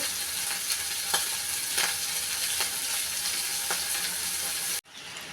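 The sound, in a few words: prawns frying in oil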